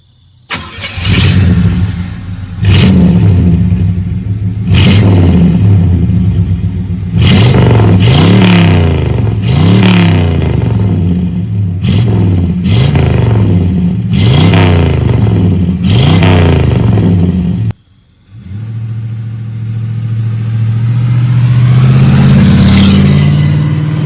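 A 1979 Pontiac Trans Am with a small-block engine revs hard through its exhaust, loud and close: a string of sharp throttle blips rising and falling, a brief cutoff, then a sustained, rising rev.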